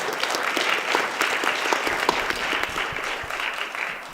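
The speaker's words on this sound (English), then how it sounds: "Please give a round of applause to Mr." An audience applauds warmly at a Trinity College panel discussion in a cinema, a dense, steady wash of many hands clapping close by that holds its level for about four seconds with no voices on top.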